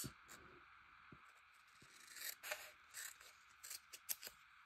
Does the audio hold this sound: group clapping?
no